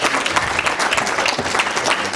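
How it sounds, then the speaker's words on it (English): A room full of people applauds steadily, dense clapping sustained throughout without a break. "Please give the three speakers a better round of applause."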